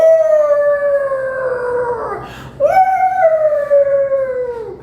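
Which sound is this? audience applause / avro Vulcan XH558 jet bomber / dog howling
dog howling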